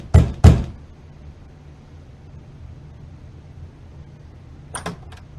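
A door is knocked in The Wolf Among Us: two sharp, close raps at the start, a stretch of quiet room tone, then a quicker pair of lighter taps near the end.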